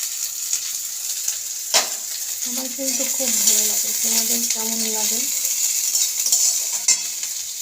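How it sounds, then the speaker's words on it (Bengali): Pointed gourd and onion fry in a pan, crackling and sizzling close by with occasional stirring clinks, while someone talks over the cooking. "পটল দিয়ে পেঁয়াজ দিয়ে ভাজা করছি"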